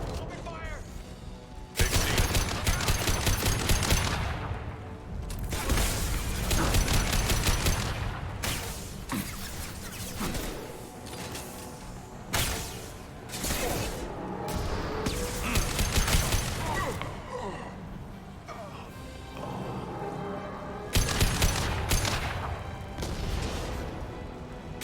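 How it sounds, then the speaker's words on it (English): Sci-fi gunfire from Mass Effect 2 rattles in loud, dense bursts and heavy booms, broken by short pauses, with voices speaking over the combat. "Firing a high impact shot."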